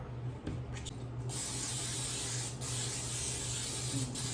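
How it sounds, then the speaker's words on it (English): Cooking oil is sprayed into a cast iron pan: a couple of short bursts, then a long, steady, close aerosol hiss lasting several seconds. "First, spray the cooking oil in the pan."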